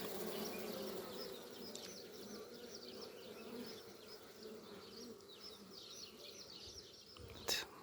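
Dense, steady buzzing of many honeybees close by at an open hive, a continuous hum throughout, with a brief sharp knock near the end.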